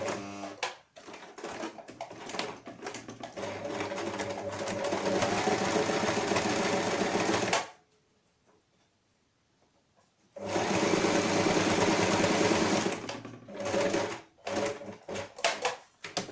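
A sewing machine stitches the seam of a fabric face mask in loud, steady runs, stops for a few seconds of near silence, then resumes and breaks into shorter, stuttering bursts.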